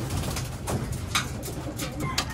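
Pigeons coo low and soft in a steady murmur, with a few brighter rustles and calls on top.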